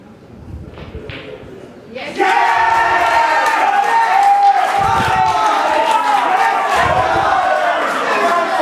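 A crowd at a men's team bowls final between Victoria and South Australia breaks into a loud, sustained cheer and applause after a quieter murmur, the roar holding steady to the end.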